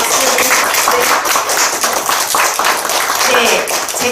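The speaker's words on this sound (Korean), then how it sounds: "네, 다 발표자하고 토론자 선생님들에게 한번 박수를." Loud, close applause from the audience at an academic discussion session honoring presenters and discussants, a continuous clatter of clapping hands that stays strong throughout, with some voices mixed in.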